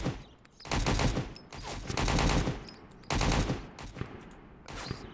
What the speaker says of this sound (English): Two of them shooting at me over there